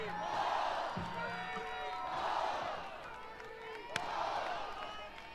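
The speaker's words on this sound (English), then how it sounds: "Crowd getting behind Margeco on this 1-2 pitch." Crowd at a college softball game between Tennessee and Ohio State rises behind the pitcher on a 1-2 count, cheering in broad swelling waves with one sharp bang near the end, and voices mixed through the noise.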